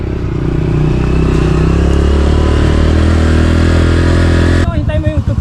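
A Honda CRF125F dirt bike engine revs loudly and close, a buzzing roar that cuts off sharply near the end, leaving sputtering idle pulses.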